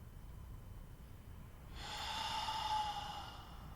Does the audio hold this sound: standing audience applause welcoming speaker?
no